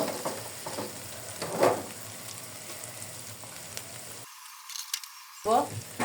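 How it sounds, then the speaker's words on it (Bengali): Chopped onion and green chili fry in a pan, a close, moderate sizzle with stirring scrapes, broken by a brief gap near the end. "পেঁয়াজ কুচি এবং কাঁচামরিচ কাঁচামরিচ কুচি করে কেটে নিয়েছি, মানে বেশ একটা কুচি না। এখন আমি এটাকে একটু ভালো করে ভেজে নিব"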